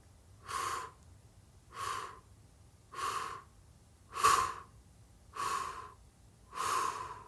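Slow, deliberate breaths in and out, six even breaths spaced a little over a second apart, each a soft airy rush close to the listener, with quiet pauses between them.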